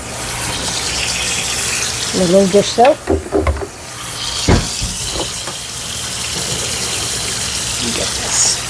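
Water runs into a cooking pan in the kitchen to soak it after potatoes, a steady gushing fill with clinks of the pan and a brief remark from the cook.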